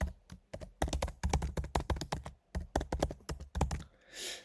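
An email address typed on a computer keyboard, close crisp keystrokes in quick uneven bursts with short pauses, ending in a brief rustle, no speech.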